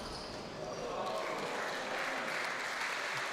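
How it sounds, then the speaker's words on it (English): Spectators at a glass-court squash match at the WSF Masters World championships applaud a shot, a steady wash of clapping lasting a few seconds and swelling slightly midway, with faint voices mixed in. "It's a lovely shot. Crowd appreciated that."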